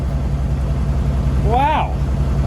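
An old truck engine, just fired and still on its factory exhaust system, idles with a quiet, steady low rumble beneath someone talking.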